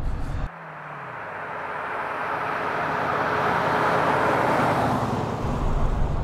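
A Jensen Interceptor, a classic British grand tourer with a big torquey engine, accelerates hard, a rising roar with road and wind noise swelling over several seconds, no voices.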